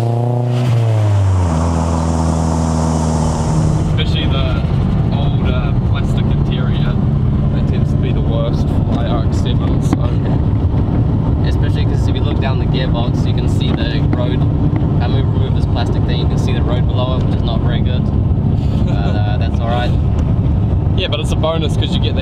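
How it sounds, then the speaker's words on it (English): A 2002 Nissan Silvia 200SX, about twenty years old, drives with a steady loud engine and road roar while loose panels rattle and tick throughout, with wind buffeting and a voice talking over it. "with like any kind of 20-year-old Nissan, you'll get a bunch of panels and stuff rattling around"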